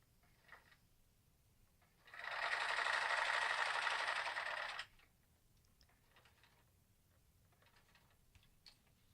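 A sewing machine stitches a red T-shirt into a diaper in one steady, fairly loud run of about three seconds, then stops, leaving faint handling noises.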